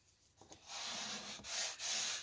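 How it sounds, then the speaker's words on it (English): A bone folder rubs firmly across a card, giving a close, dry scraping rasp in a few continuous strokes with brief breaks between them. "I like to take my bone folder and burnish that"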